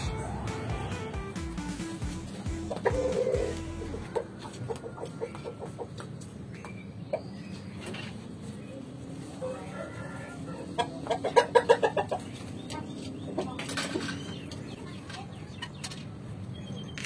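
Chickens cluck in a coop while it is being built, with scattered short clucks over steady background noise and a louder burst of calls near the middle.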